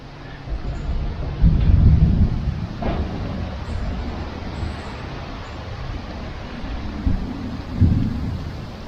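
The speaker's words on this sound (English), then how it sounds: "Can you hear the thunder?" Low, rolling rumbles of thunder swell and fade over steady rain hiss, with a couple of heavier booms standing out against the wet background.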